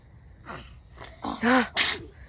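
Several short, sharp nasal bursts of a child's sneezes, close and fairly loud, coming in quick succession with a higher squeaky one at the end.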